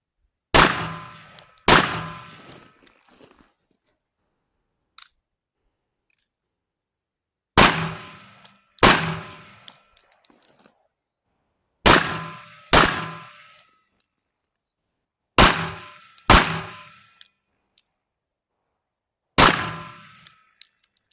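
Pistol shots strike steel targets during weak-hand practice: each sharp crack is followed by a ringing metallic clang, fired mostly in quick pairs with pauses between them while switching hands, loud and close with no talk.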